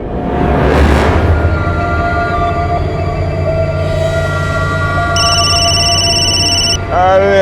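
A telephone rings with an electronic trill partway through, heard over loud continuous background noise with music-like tones and voices.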